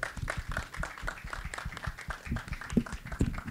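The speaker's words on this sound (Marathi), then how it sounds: "मी आता बोलावतोय सिद्धार्थ बोडके. तर जोरदार टाळ्या." An audience claps at a Marathi film trailer launch event, a dense, continuous patter of many hands applauding at moderate distance throughout.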